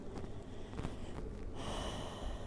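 Someone resting in child's pose during an abdominal workout takes deep audible breaths, close and soft, with a few airy pulses and then a longer, steady exhale.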